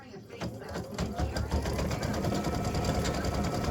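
A home embroidery machine stitches free-standing lace ribbon earrings with a steady, fast mechanical whir and needle rattle, close by, while someone talks over it.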